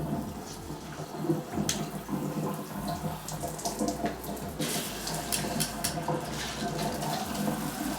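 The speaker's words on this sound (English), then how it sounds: "there's water coming out from right here, and there's also water coming out from right there" An AquaDance high pressure shower head sprays a steady rushing stream of water, dense and continuous with slight splashing fluctuations, heard close up.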